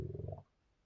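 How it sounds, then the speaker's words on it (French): A stomach rumbles close by, a low gurgling growl that churns for under half a second and then fades into quiet. "Oh, ça, c'était mon ventre."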